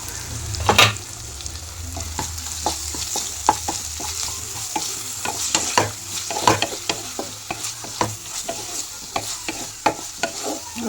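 Ginger garlic paste frying in a pan of oil with turmeric, stirred by a spoon that scrapes and taps in an irregular rhythm over a steady close sizzle.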